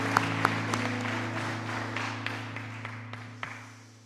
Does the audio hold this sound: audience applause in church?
yes